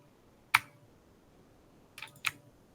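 Computer keyboard in an office setting, with a single crisp key press, then a pause and two more quick clicks close together, near and isolated against a quiet background.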